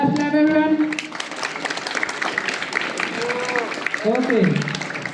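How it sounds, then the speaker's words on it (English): Crowd claps at an outdoor sports meet, a loudspeaker voice briefly at the start and again near the end, with steady mass clapping between and under it. "Clap, clap, everyone."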